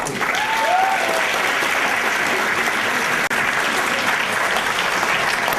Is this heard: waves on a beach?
no